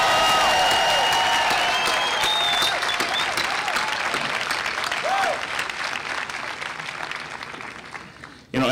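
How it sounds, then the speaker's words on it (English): A large crowd at a university graduation ceremony applauds loudly and continuously, with a few whistles or cheers, the clapping slowly thinning out toward the end. "So let's give them a round of applause."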